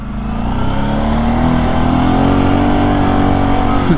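Kawasaki Brute Force 750 ATV idling and burbling at light throttle, a steady close engine rumble with dirty, popping exhaust burbles and a faint rising whine, no talking.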